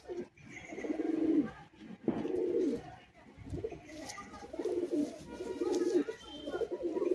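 Pigeons coo in repeated low, throaty phrases, close by, with a few faint chirps and rustles between the calls.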